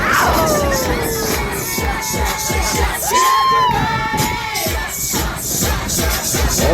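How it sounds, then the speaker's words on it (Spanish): A crowd on a pirate ship tour in Los Cabos cheers and whoops, with overlapping shouts and high yells rising loud and close, then carrying on steadily throughout. "¡Fuertes los aplausos!"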